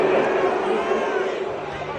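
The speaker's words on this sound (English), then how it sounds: "Some boos coming down right now from this home crowd after that call" Home crowd in the Madden 22 football video game, Bengals at Raiders, booing after a pass interference call, a dense, steady roar of massed voices filling the stadium at loud, even volume throughout.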